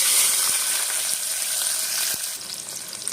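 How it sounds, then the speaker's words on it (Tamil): Small shallots and large onions sautéing with fennel and cinnamon in a pan of hot oil for green gram coconut milk rice, a steady, loud sizzle with faint stirring scrapes throughout. "நல்லா வணக்கி விட்டுக்கலாம்"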